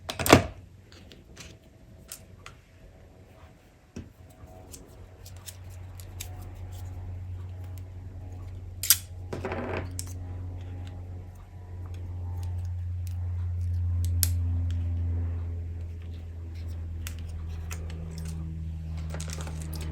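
Scissors trim the tails of a ribbon bow on a handmade cottage wreath card, giving a few close, crisp snips over a low background hum.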